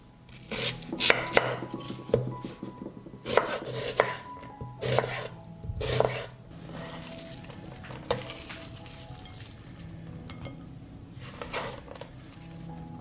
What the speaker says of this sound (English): I will cut 1 onion.